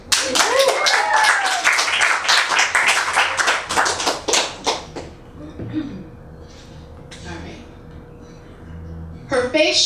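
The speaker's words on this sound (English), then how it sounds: "Clap it up for Robert Cooper." Audience at a poetry slam claps loudly and rapidly for about five seconds with a whoop or two, then it dies away into quiet with a few scattered voices and a brief burst of claps at the end.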